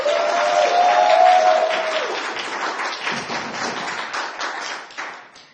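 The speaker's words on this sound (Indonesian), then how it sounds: "Kita kasih tepuk tangannya" An audience at a customer prize-draw event claps in a brief round that fades toward the end, with a short tonal sound like a voice or whistle near the start.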